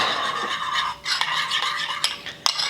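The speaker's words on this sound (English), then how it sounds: "Stir that up" A spoon stirs white sauce seasoned with oregano, cumin and salt in a bowl, giving close, soft scraping swirls with a few sharper clicks against the side, with no talk.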